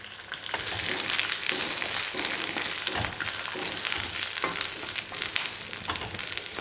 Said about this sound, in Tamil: இது கொஞ்சம் வெங்காயம் வதங்கட்டும், பிரியணும்.